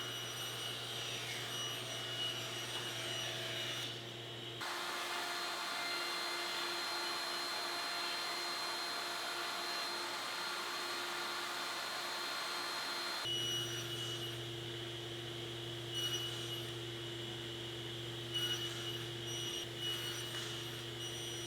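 Power tools mill floating tenons for a bookcase, a steady loud whine and roar like a dust extractor, cutting out briefly midway and then resuming with a different hum, alone without speech.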